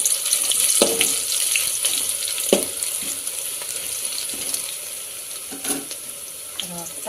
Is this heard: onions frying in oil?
yes